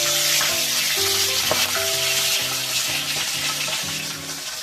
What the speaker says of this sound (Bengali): এবারে একটা একটা করে মাছ ভেজে নেব